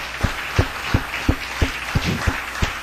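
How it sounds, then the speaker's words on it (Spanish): A congregation at a communion service claps in a steady, evenly spaced rhythm, with sharp beats roughly three per second over a background hum. "Denle un fuerte aplauso al Rey."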